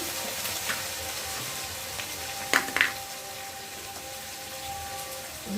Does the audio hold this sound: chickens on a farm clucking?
no